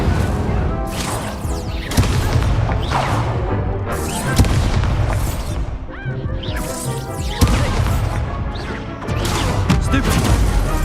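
Incendio fire spells cast repeatedly in Hogwarts Legacy, loud bursts and crashing booms recurring about every two seconds over a busy battle din, with a voice calling out between them.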